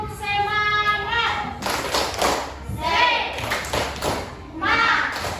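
A class of children doing a rhythmic spirit clap in a lesson, with bursts of clapping interleaved with chanting young voices, close and fairly loud.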